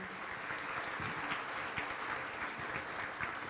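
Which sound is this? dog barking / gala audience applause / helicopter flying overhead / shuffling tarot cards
gala audience applause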